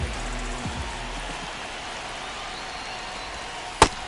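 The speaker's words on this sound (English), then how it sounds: "This rain is not letting up." Rain falls steadily over a baseball game in MLB The Show 25, a soft, even wash of drizzle noise with a low rumble at first and a single sharp crack near the end.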